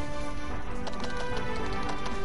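A horse trots in the video game Dragon Quest XI, its hooves making a steady, rapid clip-clop over a dense layer of game music and background sound.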